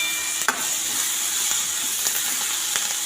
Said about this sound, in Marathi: तर ह्याला परत मिक्स करून घेऊ